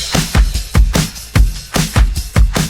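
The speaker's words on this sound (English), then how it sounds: "the whole drum pattern that we created sounds like this all together" A punchy pop drum loop programmed in FL Studio 21 plays loud and steady, with thumping kicks, crisp snares and bright hi-hats driving a regular groove and no voices.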